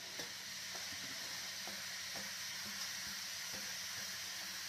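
Grated carrots sizzle and hiss steadily in a kadai over a medium flame, with faint periodic scrapes and taps of a stirring spoon against the pan.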